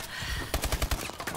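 Rapid automatic gunfire in an online multiplayer shooter match, a quick burst of sharp, punchy shots in close succession, loud and close with no talking.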